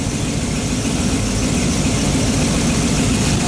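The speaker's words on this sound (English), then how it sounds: "This thing just idling." Chevy 350 V8 idling on an engine stand during break-in, a steady, close, loud low rumble with even pulsing and no talk over it.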